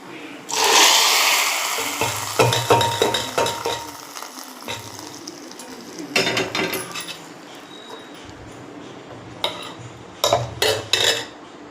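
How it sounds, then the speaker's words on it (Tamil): Mustard seeds and curry leaves spluttering in hot oil for chutney, a dense crackling sizzle with clinks of a pan and utensil and bursts of stirring. "நல்லா கடுகு, கருவேப்பிலை எல்லாம் பொரியணும்"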